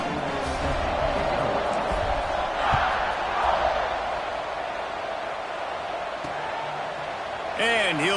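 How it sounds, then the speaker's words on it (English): Stadium crowd in College Football 26 at an Old Dominion at Alabama game, a broad continuous roar with swelling cheers beneath steady play-by-play commentary. "this crowd now ready to get behind them"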